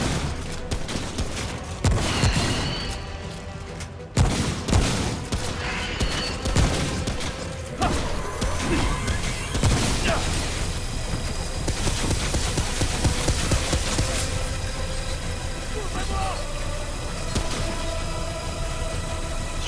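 Rapid bursts of gunfire in the video game Remnant: From the Ashes, loud dense volleys with sharp repeated shots running throughout, no speech.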